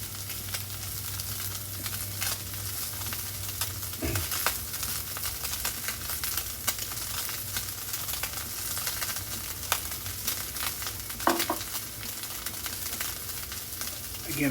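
A thin tuna steak sears in a hot pan, giving a continuous close sizzle throughout with a few faint clinks and shifts.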